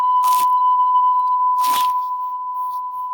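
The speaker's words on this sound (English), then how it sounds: "Okay, so it's just this long beep." A continuous pure beep tone holds steady throughout, with two brief bursts of crunchy noise breaking in on top of it.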